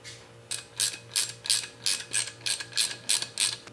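Screws are driven into a new fan in a Sub Zero 700TC refrigerator, producing about a dozen evenly spaced ratcheting clicks in a quick steady rhythm, close and clear over a faint low hum.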